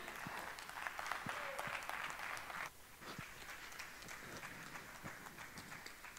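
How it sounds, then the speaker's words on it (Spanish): Audience applause for a speaker being introduced at a tech festival talk in Spain, a steady patter of clapping heard faintly at a distance, thinning slightly partway through. "¡Un aplauso para él!"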